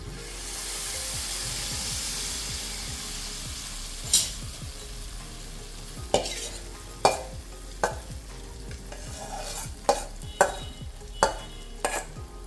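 Dal with curry leaves and turmeric being stir-fried in oil: a steady sizzle at first, then a series of sharp scraping stirs of a spoon against the pan, close and fairly loud.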